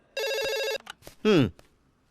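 A telephone bell rings loudly for an incoming call in a Hindi-dubbed South Indian film, one long electronic trill followed by short clicks and a second, lower ringing burst, with a brief voice between.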